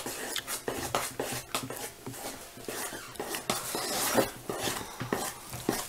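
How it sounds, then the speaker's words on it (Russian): Quick irregular scraping and clinking of a spoon stirring thick dough in a bowl, close up, with no talking. "Я пока жидкой ложкой мешаю."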